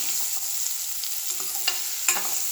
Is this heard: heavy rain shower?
no